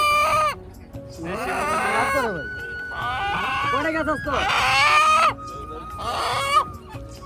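Roosters and hens cackle and squawk repeatedly nearby at a busy outdoor village market, with someone talking over the birds.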